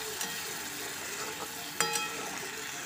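A little water goes into okra cooking in a pan, setting off a steady hiss and sizzle with a sharper burst partway through, close and continuous with no talking.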